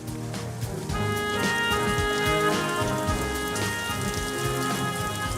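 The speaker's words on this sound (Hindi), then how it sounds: "बारिश भी शुरू हो गई है।" Steady rain pattering on a rooftop, a dense, continuous hiss of drops heard close and loud, with a few bright tonal accents running underneath throughout.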